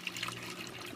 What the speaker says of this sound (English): I'm not using any air stones because just the crashing of the water on the